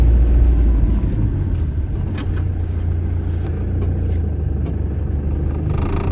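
A car rolls slowly around a large secluded bush campsite, a steady close low engine rumble with tyre noise on the ground and no talking.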